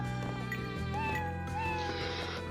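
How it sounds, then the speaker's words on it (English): A cat meows in the Arc Rise Fantasia video game, with faint, drawn-out mewing cries over a continuous bed of game music. "There's a cat."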